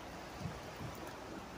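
Heavy rain falls in Indiana during a storm that has knocked out the power, making a steady, even hiss of downpour that stays faint and unbroken throughout with no voices.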